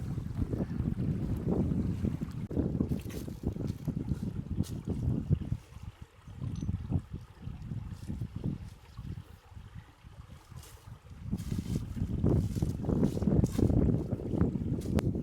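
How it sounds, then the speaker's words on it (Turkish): Strong gusts of wind buffet the microphone in a continuous low roar outdoors in the countryside, easing briefly midway before surging again. "Vay rüzgar nereye çıktın böyle?"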